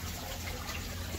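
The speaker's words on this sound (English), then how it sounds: "That's all the water drains out of this grow bed" Water drains out of a 6 by 12 foot aquaponics grow bed through a U-siphon, a soft, steady gurgling rush heard alone at low volume for just over a second.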